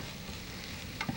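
Onions frying in a pan give a steady soft sizzle throughout, with a brief stirring clatter near the end.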